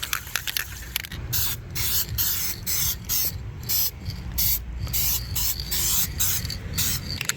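Spray paint hissing onto a chrome door handle from a Lexus GX 460 as a second coat, in short repeated bursts with brief gaps between them, close and loud, with no talking.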